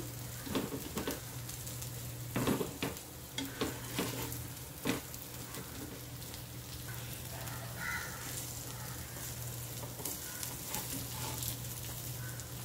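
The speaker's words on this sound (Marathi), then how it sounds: "एका साईडनी फ्राय झाल्यात त्या. आता पलटूया." Crispy corn cutlets frying in oil after being flipped, a constant hiss of sizzling with repeated clicks and scrapes of a spatula, plus a crow cawing faintly in the background.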